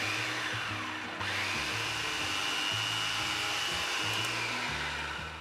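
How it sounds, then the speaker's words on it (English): A food processor whirs through beans and brown sugar, a steady motor drone with a slight pitch shift near the start, fairly quiet and with no talking. "We're gonna let this run in our food processor until it's a smooth mixture."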